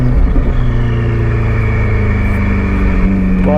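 Novitec-tuned Ferrari F8 Spider supercar engine holding a loud, steady rev with a deep droning tone, close by, the pitch lifting slightly near the end.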